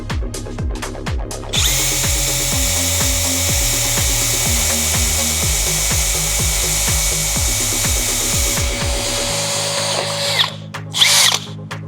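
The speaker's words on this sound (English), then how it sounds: "Now I would be drilling into this 5 mm thick steel." A Milwaukee power drill bores into 5 mm thick steel plate, a loud continuous whine with rhythmic pitch shifts as the bit loads and eases, steady throughout and ending with a brief spin-down.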